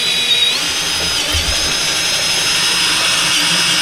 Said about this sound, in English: We'll clamp this thing here good and drill some holes in her.